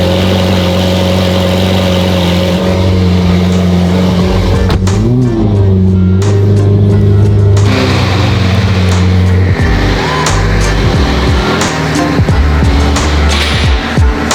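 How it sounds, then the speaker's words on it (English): Twin-turbo Ferrari F12 cold start: a loud, close engine that fires and settles into a high, rough idle, with blips and revving surges partway through and shifting tones over a deep rumble, no talking heard. "This is a real cold start."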